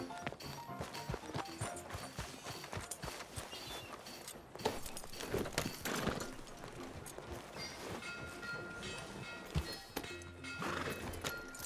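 Steady galloping hoofbeats of a horse ridden in Red Dead Redemption 2, a continuous clip-clop with occasional neighs and whinnies over a busy game soundscape, with faint distant rumbling.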